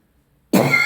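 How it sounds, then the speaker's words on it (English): A single short cough bursts out after a moment of near silence. It is close, loud and abrupt, and nothing else is heard. "I'm coughing a bit."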